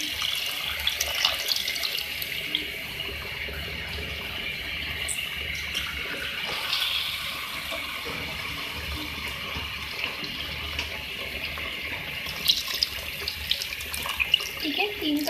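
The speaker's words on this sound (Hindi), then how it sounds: "अब इसमें मैं वाटर ऐड कर रही हूँ।" Water pours into a pan of sautéed tomato and spice masala for a potato, pea and egg curry, a steady running splash with no talk over it.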